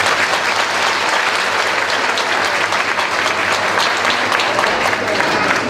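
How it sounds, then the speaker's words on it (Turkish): Hearty crowd applause for the women at a Turkish association's unity night in Istanbul, continuous dense clapping from a large hall audience throughout. "Ben buradaki bütün hanımefendiler için güçlü bir alkış rica ediyorum"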